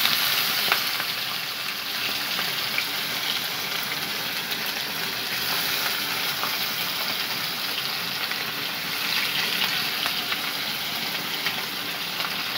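Spiced katla fish frying in a pan gives off a steady, dense sizzle that runs unbroken from start to finish, close and fairly loud, with no voices.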